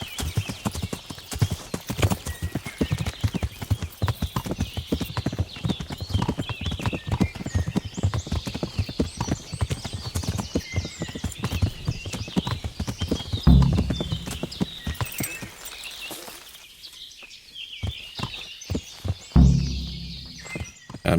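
A horse in the video game Kingdom Come: Deliverance clip-clops steadily with dense, continuous hoofbeats, loud and close, before it slows near the end, with a low whinny-like rumble late on.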